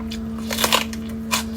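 Fresh crisp bell pepper topped with cream cheese and Cheetos is bitten and chewed close to the mic, giving a few crunchy snaps and crackles over a steady electrical hum.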